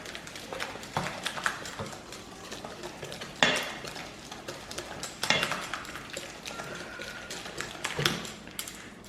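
Spices and kasuri methi being mixed into a tandoori chicken marinade in a bowl: soft scraping and stirring with several sharper clinks of a utensil against the bowl, fairly quiet and close.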